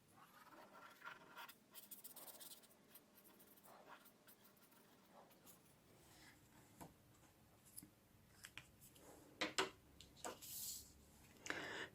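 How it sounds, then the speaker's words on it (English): A black marker pen scratching across paper laid over a second sheet, drawing a circle for a paper ANZAC poppy; close, quiet squeaky strokes in irregular bursts, growing louder toward the end, with no speech. "Taking either a black pencil or a black marker pen, draw a circle in the middle of your flowers."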